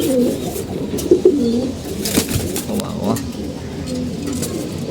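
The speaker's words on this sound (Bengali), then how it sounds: "কবুতরের বাচ্চাগুলো বড় হয়ে গেছে বাচ্চাগুলো কত সুন্দর" Pigeon chicks coo and murmur close by in a busy loft, their soft low calls rising in short bursts over a steady backdrop of rustling and other birds, with a voice heard faintly in the background.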